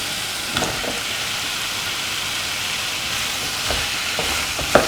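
Yam and potato pieces fry in a hot pan with a steady broadband sizzle, joined by a few soft scraping stirs and small pops near the end, close and fairly loud with no voices.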